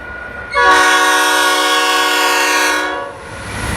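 An 81 class diesel locomotive leading a coal train sounds its horn loudly and close by at Menangle, a single sustained blast of roughly two seconds before the rumble of the passing train resumes.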